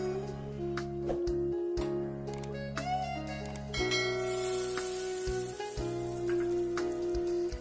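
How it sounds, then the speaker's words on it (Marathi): Red chilli and garlic tempering poured onto spinach curry, giving a crackling sizzle with scattered sharp pops over a steady hum, moderately loud and close with no talking. "आणि अशी ही लाल मिरची आणि लसूणचे तडका भाजीवर देणार."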